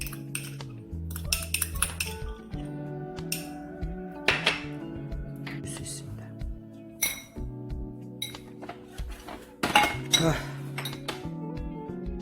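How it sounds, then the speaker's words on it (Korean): A fork clinks and scrapes against a dish in irregular bursts, mashing boiled egg yolk with sweet potato and potato, with soft mashing sounds and quiet background music between the taps. "포크로 깨주시면 좀 편하게 이렇게 넣어주시면 되겠습니다."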